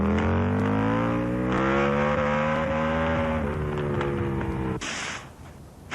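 Britten V1000 racing motorcycle engine on a test run, a loud, sustained roar holding steady near the listener, then cutting abruptly to a quieter rushing noise near the end.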